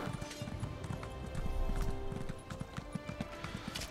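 Horse hooves galloping in the video game Elder Scrolls Online, a fast, loud, rhythmic clip-clop close up that stays steady throughout, briefly swelling in the middle.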